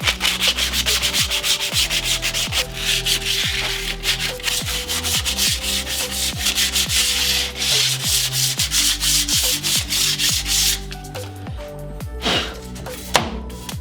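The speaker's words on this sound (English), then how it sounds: "Now I gotta sand the burrs off of every single one of these edges" Burrs are sanded off the metal edges of a shield with steady, rough rubbing strokes and occasional knocks and taps, close and loud throughout, with no voices.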